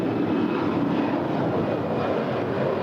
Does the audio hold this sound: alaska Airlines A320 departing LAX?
yes